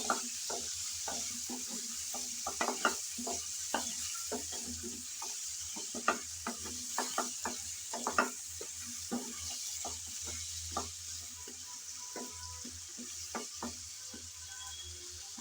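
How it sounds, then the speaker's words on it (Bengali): Sliced radish stirred and fried in hot oil in a pan gives a continuous close sizzle, broken by irregular scraping and clinking strokes of a spatula, with no talking. "আমি কিছুক্ষণ যাবৎ মূলা নেড়েচেড়ে ভেজে নিলাম।"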